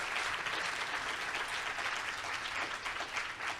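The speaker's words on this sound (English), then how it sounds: "give our panelists a round of applause" Conference audience applauding panelists at a policy session, a dense, even wash of many hands clapping throughout, fairly distant and steady with no talk over it.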